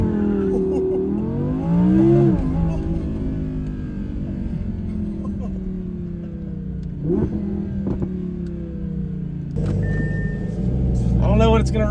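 A supercar launches hard under launch control at a drag strip, its engine rising in pitch through several gears with a loud, close roar, while a voice talks over part of the run.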